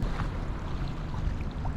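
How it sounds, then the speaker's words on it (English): Strong wind gusting hard on open water, a dense continuous rush and buffeting rumble against the microphone, no voices. "Holy smokes, guys, the wind is blowing so hard."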